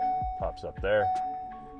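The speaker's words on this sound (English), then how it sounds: "sorry about the beeping." A steady electronic beep sounds inside a Ford Transit van fitted with a rear-view-mirror backup camera, holding one even pitch beneath a man's nearby speech.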